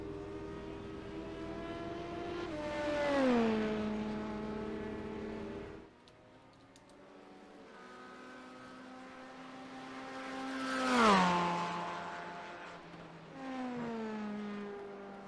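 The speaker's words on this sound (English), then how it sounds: "Entering the Porsche curves for the final time in the 28 Night Racing Esports Corvette C8R" Corvette C8R race car engine in a Le Mans sportscar racing video game, a high revving tone rising and falling through gear changes as the car brakes and accelerates through a curve, passes close twice, then fades.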